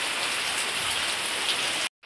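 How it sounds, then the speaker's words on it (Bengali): Steady rain falls outside under a cloudy early-morning sky, a dense even hiss of drops on surfaces that runs without a break, then cuts off abruptly near the end. No one speaks. "উঠে দেখো বাইরে বৃষ্টি হচ্ছে, মেঘ করেছে কেমন আকাশে"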